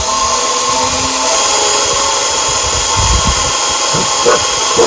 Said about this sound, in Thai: การหมุนสกูก่อนนะครับ โดยเราจะจับเวลานะครับ ในการ เจาะนะครับ